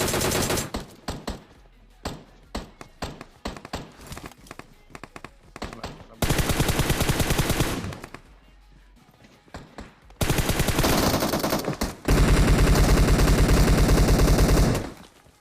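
Rapid bursts of automatic gunfire in PUBG Mobile, sharp and loud, in several long volleys separated by brief pauses, with sustained heavy firing toward the end.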